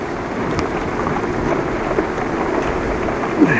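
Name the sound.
rain falling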